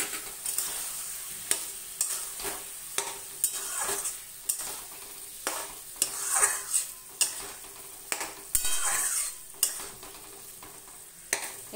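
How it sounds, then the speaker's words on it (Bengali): Boiled red lentils tipped into cooked red amaranth greens and prawns, stirred in a hot pan: a steady sizzle and frying hiss, broken by regular scrapes and clinks of a spoon against the metal pan. "এই সময় আমি দিয়ে দেবো যে মুসুরির ডালটা সেদ্ধ করে রেখেছি সেটা দিয়ে দিলাম।"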